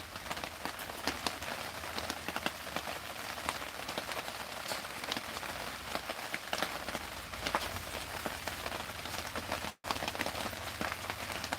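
Steady rainfall drums on a tent canopy just overhead, dense irregular pattering with sharper individual drops, continuing alone with a brief dropout near the end.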